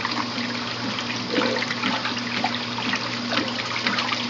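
A Simplicity twin-tub washing machine rinsing laundry, a continuous moderate wash of churning, trickling water with a low motor hum underneath, no talk.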